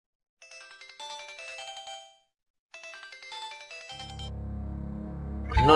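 A mobile phone plays a bright melodic ringtone in two bursts separated by a short pause, followed by a low droning background sound that swells at the end.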